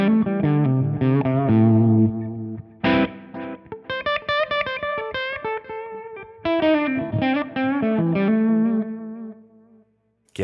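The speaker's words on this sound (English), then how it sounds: "We're getting this pumping and breathing sound versus if I didn't have the compressor on." Electric guitar played through a compressor, its notes and strummed chords squashed on the attack and then swelling back in a pumping, breathing way, with short phrases separated by brief gaps.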